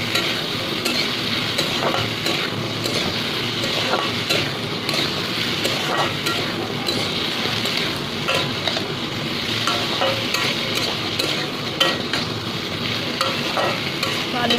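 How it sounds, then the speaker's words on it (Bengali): Potatoes with turmeric fry in a pan with a loud, continuous sizzle, broken by frequent scraping and stirring clatter. "আলুটা ভাজা ভাজা হোক"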